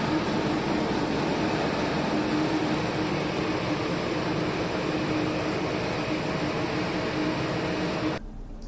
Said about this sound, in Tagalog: So yan yung discharge ng blower natin or fan.